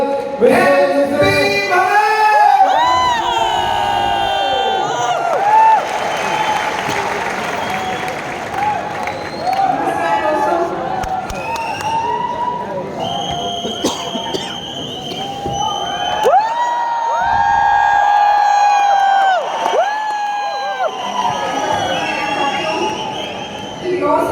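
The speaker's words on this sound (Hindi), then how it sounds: "लेडीज एंड जेंटलमैन, जोरदार तालियां हमारे नेक्स्ट रनर" A crowd at the V20 Meet applauds and cheers a runner called to the stage, with sustained clapping, shouts and whoops from many voices, loud and lasting throughout.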